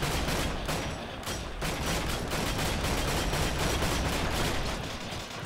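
Dense gunfire in the war shooter Heroes & Generals, a loud, continuous barrage of overlapping shots and bursts with no pauses, like a sustained battlefield firefight.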